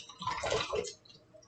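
A short, thick glug of canned sauce pouring into a pot, a brief wet splatter that trails off within about a second.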